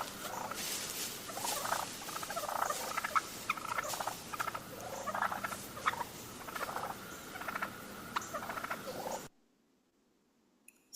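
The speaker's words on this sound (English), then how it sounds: "you could listen to turkeys purring" Wild turkeys purring in a call recording, a soft rolling, fluttering chorus of content feeding birds, continuous and close, with no talking, cutting off abruptly into silence near the end.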